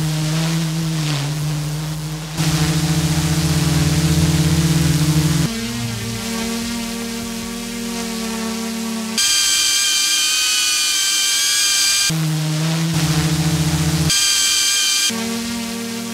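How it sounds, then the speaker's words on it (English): A DJI Mavic 3 Classic drone hovering, its propellers giving a steady, buzzing whine whose pitch and loudness shift between several sustained sections. "Here is how the drone sounds hovering."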